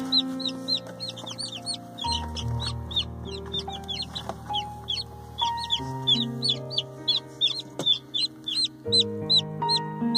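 A buff Orpington hen clucks in low, repeated notes while her newly hatched chicks peep constantly in high, rapid chirps close by, a busy mix with no talking.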